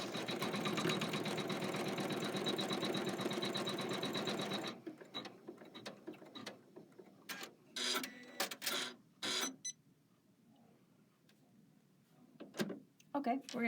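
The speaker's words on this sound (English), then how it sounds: "we're going to sew the fabric placement line around each of our radishes" An embroidery machine stitches a fabric placement line around radish shapes for a Kimberbell zipper pouch, threaded in red, with a dense, steady mechanical whir for the first few seconds, followed by quieter handling clicks and a voice talking.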